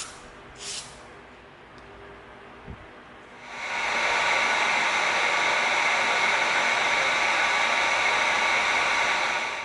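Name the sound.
sanding EVA foam helmet with 220 sanding stick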